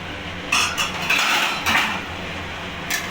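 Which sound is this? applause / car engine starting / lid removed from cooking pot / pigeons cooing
lid removed from cooking pot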